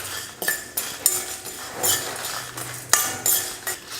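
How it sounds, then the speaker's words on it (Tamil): Pepper, fennel, cardamom, cloves, cinnamon and chilies dry roasting in a pan without oil, with intermittent metallic clinks and scrapes from stirring, close by. "எண்ணெயில் ஊற்றி வறுக்க தேவையில்லை, சும்மா வறுத்துக்கிட்டால் போதும்."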